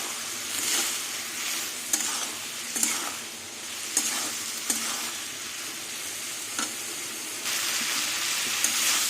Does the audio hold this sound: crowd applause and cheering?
no